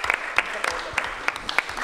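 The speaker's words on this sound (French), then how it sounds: "On peut applaudir quand même." Scattered clapping from a small audience at a public lecture during the 2013 Reclusiennes gathering, a few quick bursts of hand claps rising and falling over under two seconds.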